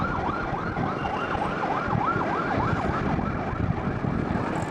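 A police siren wails in a steady rising-and-falling sweep over constant road traffic noise, moderately loud and fairly near.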